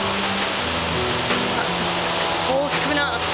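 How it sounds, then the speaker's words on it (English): Steady, loud rushing of water pouring in a heavy torrent from the pipe of Kinlochleven power station in the Scottish Highlands, a broad roar that fills the scene, with a voice briefly speaking near the end. "Water coming out of the pipe from Kinloch Leven power station"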